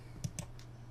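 Two or three crisp, quick clicks of a computer mouse selecting a website link, close and fairly quiet over a steady low hum.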